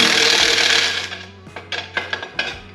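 A lawn mower muffler on a Lawn Boy mower is worked loose with a tool. A steady mechanical whir gives way to several sharp metallic clicks and clanks, close and moderately loud.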